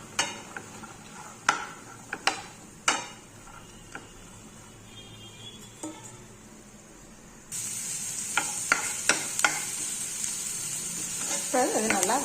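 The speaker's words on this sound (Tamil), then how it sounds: "இதை வதக்கலாம்." Beans and carrot sautéing in a pan, with scattered stirring clicks and scrapes over a low sizzle that grows louder and steadier in the second half, close and with no talk.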